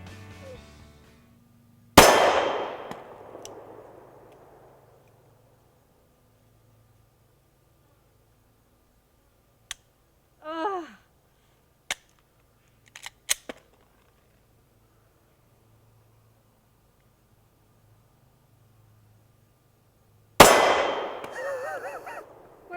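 A 9mm Glock handgun fires at a steel target, two loud sharp bangs with a metallic ring, one early and one near the end, separated by long quiet with a few faint clicks and a brief squeak.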